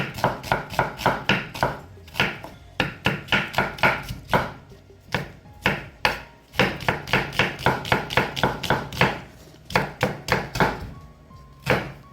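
Onion chopped rapidly with a knife on a cutting board for geotjeori, a close series of sharp, rhythmic thuds in quick bursts with short pauses between runs.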